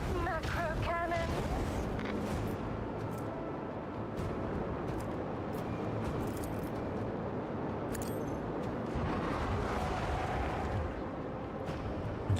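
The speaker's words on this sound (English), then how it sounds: "commence the symphony of macro cannons." Deep, booming macro cannon fire from a starship in Warhammer 40,000: Rogue Trader rolls on continuously, heavy blasts overlapping into a sustained rumble with sharper cracks scattered through.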